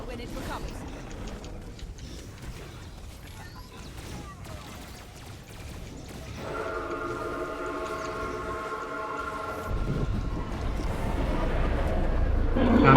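A train arrives in an online multiplayer game. A long, loud horn-like tone sustains for a few seconds and is followed by rising rumble, while players talk over it throughout.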